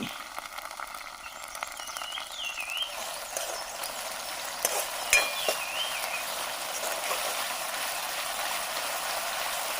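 Tamboshi fish frying outdoors in a jungle camp with soy sauce, red chilli and green chilli sauces, a steady broad sizzle holding throughout at moderate level with a few sharper crackles midway and no talking.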